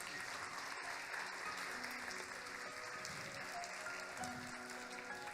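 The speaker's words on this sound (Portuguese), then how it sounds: "Você pode aplaudir a Ele bem forte?" Loud, steady applause from a church congregation answering a bishop's call during a sermon, sustained dense clapping throughout with no break.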